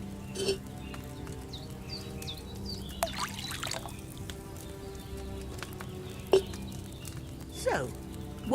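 Wine poured from a pitcher into a cauldron in Kingdom Come Deliverance II, a soft splashing pour under quiet ambient game sounds with a few brief clinks.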